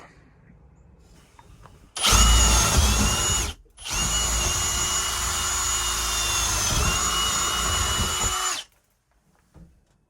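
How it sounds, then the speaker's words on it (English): A power drill bores holes through a micro camper's wall for a window: a short loud whine, a brief pause, then a long steady high-pitched run, close and loud with no talk. "I'm just going to drill around like a hole through the center"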